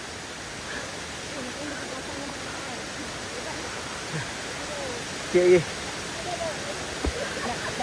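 The Sungai Kanching waterfall in Rawang, Selangor, Malaysia, gives off a steady, broad rush of falling water that holds through the whole clip. A person speaks briefly over it.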